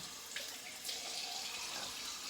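Cold water running from a tap for rinsing, a steady quiet splashing flow close by with no talk.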